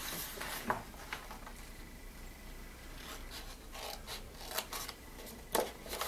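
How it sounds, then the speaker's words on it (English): Scissors snip through card along score lines while a gift bag is being made, giving quiet, intermittent cuts and soft paper rustles against a hushed room. "the previous score lines you're going to cut up to the horizontal line only"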